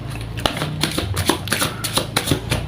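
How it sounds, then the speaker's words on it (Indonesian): Tarot cards are shuffled by hand in a steady run of crisp riffling flutters and soft slaps, close and fairly loud, with no talking. "Langsung saja saya shuffle kartunya."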